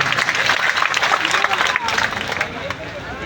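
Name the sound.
crowd applauding at a political rally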